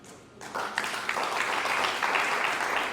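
An audience bursts into steady applause at a Kenyan awards ceremony, the clapping swelling quickly and holding as a dense, fairly distant wash of hands.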